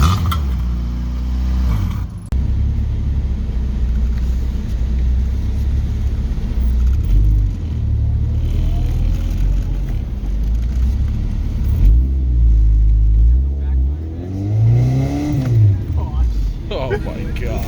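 A Honda Civic EF hatchback fitted with an eBay exhaust revs in a raspy rumble close by, the engine rising and falling in several pulls while people talk excitedly over it.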